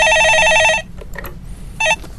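Telephone ringing on a live radio call-in show, two electronic trilling ring bursts separated by a short pause with faint studio sounds between, close and clear.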